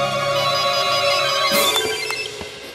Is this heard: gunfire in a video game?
no